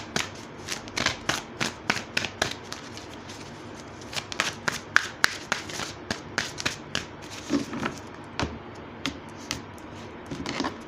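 Tarot cards being shuffled by hand, a steady run of crisp riffling and slapping bursts close by, repeating with short gaps throughout, with no talking.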